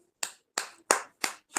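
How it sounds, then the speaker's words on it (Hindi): Congregation clapping at a church intercession prayer service: five loud, evenly spaced claps, sharp and close, with no talk between them. "आइए एक ऊंचे ताली लगाते हैं और जीवित पिता परमेश्वर को हम धन्यवाद देते हैं।"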